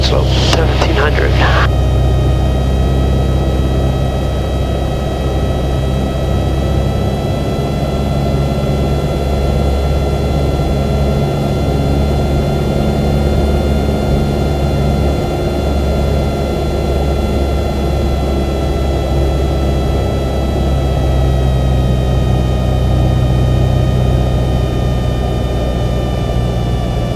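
A light aircraft engine drones in flight with the throttle pulled back to 1,700 rpm for a descent, a loud, steady, unbroken hum with a faint high whine filling the cabin throughout.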